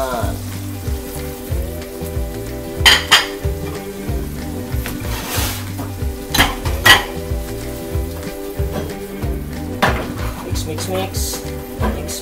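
Spaghetti is stirred and toasted in a pan with pepper, a loud continuous sizzle with repeated scraping stirs and clinks of the utensil against the pan.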